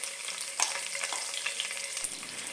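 Crushed ginger and garlic go into a pan of frying lemon pickle mixture with green chilies, bringing a close, steady sizzle with a sharper crackle as they hit the hot oil.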